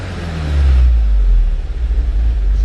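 An MK7 VW Golf GTI engine is revved up from idle, rising to a loud, deep roar before settling into a lumpy, uneven idle with a pulsing rumble.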